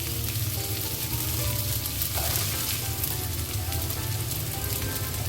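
Chopped carrots frying in a pan for restaurant-style chicken vegetable fried rice, a loud, dense sizzle, rain-like and continuous, with occasional stirring, no speech.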